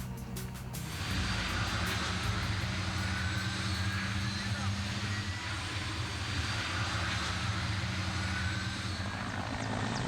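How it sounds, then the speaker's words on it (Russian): A departing helicopter's rotors and engine roar steadily and loudly in a continuous broadband wash, with a faint pitch shift as the aircraft moves off. "поднятый винтами улетающего вертолета"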